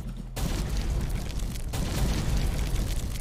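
Rocket ship explosions in the video game Fight Party: a sudden loud, rumbling blast kicks in after a brief quiet start, then a second burst renews the roar partway through, sustained and dense with no talk.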